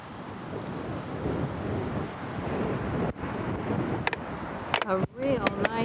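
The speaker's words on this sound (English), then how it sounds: "A real nice cool breeze. In fact, it's a little windy." Steady wind buffeting a microphone, a broad continuous rush with a few brief clicks and whistles near the end.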